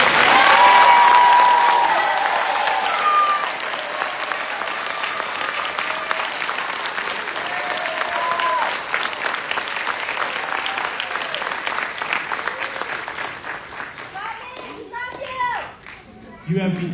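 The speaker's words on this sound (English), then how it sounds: "please join me in a round of applause for the Army's newest drill sergeant" A ceremony audience applauds a new Army drill sergeant at a graduation, a loud burst of crowd clapping that starts strong, holds steady and thins out toward the end, with cheers and voices mixed in.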